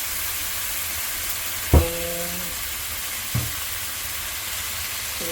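Hotdog and corned beef frying in a pan with onion and chili, a steady broad sizzle running throughout, with a sharp clank near the start and a softer knock later.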